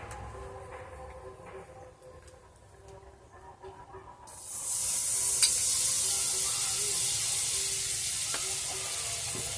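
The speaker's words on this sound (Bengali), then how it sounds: "আমি একটুখানি মাখন দেব কড়াইতে।" Butter dropped into a hot kadai on a stove erupts into a loud, steady sizzle after a few quiet seconds of faint kitchen noise, and keeps hissing close by to the end.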